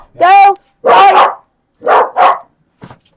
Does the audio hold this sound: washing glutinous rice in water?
no